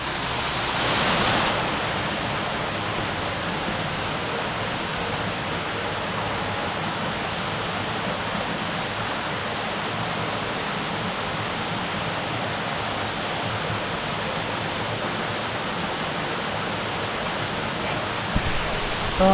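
Rocky Creek Falls in Sherwood Nature Reserve, NSW, pours in a steady, dense roar of falling water close by, unbroken throughout after a brief louder burst at the start, with no voices.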